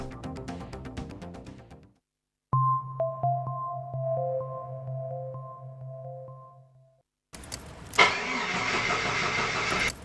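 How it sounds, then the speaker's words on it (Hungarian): A car engine cranks and starts, its steady tone settling between music at the start and a burst of louder broadband noise at the end, standing alone with no talk. "Reggelente nehezen indul az autója?"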